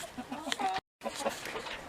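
Chickens clucking inside a chicken house, close and moderately loud, a run of soft clucks and calls briefly broken by a moment of silence.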